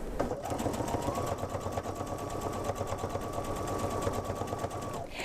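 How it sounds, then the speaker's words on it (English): A sewing machine runs steadily on fabric for about five seconds, a fast even hum of stitching, close and clear, then stops at a corner. There is no talking. "we're going to start to sew all the way up to that corner."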